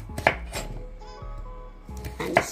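A knife cuts into a dry pumpkin, with two sharp chops landing on a board about two seconds apart and a faint ringing between them, heard up close.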